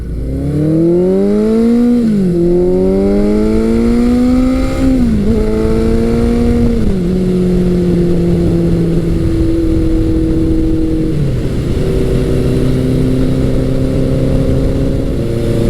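A classic Suzuki GS1100 or Yamaha XS1100 motorcycle engine revs up in repeated rising sweeps, dropping back between pulls, then settles into a steady high drone.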